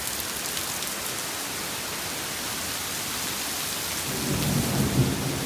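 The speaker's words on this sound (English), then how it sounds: "Oh gosh, that was thunder." Thunder rolls low during a severe storm with heavy rain and flooding, a steady rain hiss running throughout before a deeper rumble swells near the end, with no talking.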